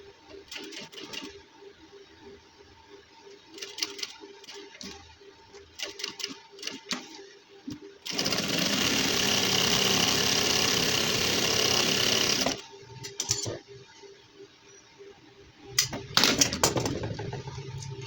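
A sewing machine stitches seams on a gents suit, running in one loud, steady burst of several seconds between quieter intermittent handling sounds, with another short run near the end.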